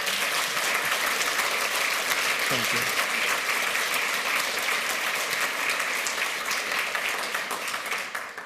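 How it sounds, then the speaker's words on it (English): A conference audience applauds at the end of a talk on electronic money and Bitcoin at the 28C3 hacker congress. The sustained, dense clapping fills the hall, and a brief voice speaks over it. "A round of applause"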